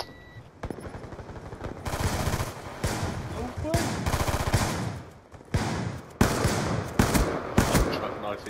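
Gunfire in a Black Ops 2 Gun Game match comes in loud, rapid bursts and single shots, near and dense, with a player's voice talking over parts of it.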